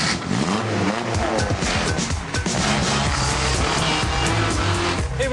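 Kei truck drifting sideways and spinning out, engine roaring continuously at high revs with tire scrub and skid noise throughout, loud and close, no talk.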